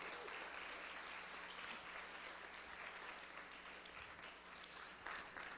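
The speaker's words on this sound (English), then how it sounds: "Let's give him a round of applause" An audience at a speakers' event applauds Albert White, a dense, continuous patter of many hands that holds steady, heard faint and distant, with a low hum underneath.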